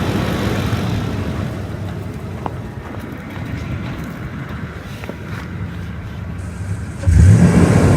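A Toyota Tundra pickup engine being tested during a battery check idles steadily and close, then revs up sharply near the end with a louder, rising roar.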